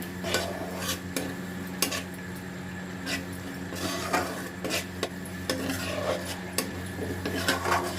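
Paneer masala with cream being stirred in a pan at home, a steady rasping scrape of a spoon against the pan with repeated strokes over a low hum, close and continuous, no talking.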